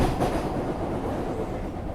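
MBTA subway train running, a loud steady rumble with rhythmic clickety-clack from the wheels on the track, heard close with no voices.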